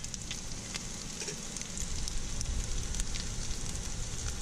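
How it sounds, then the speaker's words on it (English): Food browning in a pan over very low heat, a steady soft sizzle and crackle with faint pops, continuous and fairly close throughout with no talking. "Now we will brown these on very low heat for about 6 to 8 minutes"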